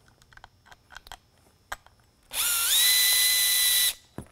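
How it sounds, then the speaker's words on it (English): Makita cordless power drill whirring steadily for about a second and a half, close and loud, as it backs out the front screws of a Whelen 500 V-Series Super-LED lighthead, with soft handling clicks before it. "So go ahead, grab the trusty Makita"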